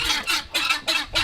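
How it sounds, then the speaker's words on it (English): A spotted guinea hen on a family farm calls loudly and close by in four rhythmic bursts, each a harsh, raspy squawk with short gaps between, and no voices. "The one with the dots on it is called a guinea hen."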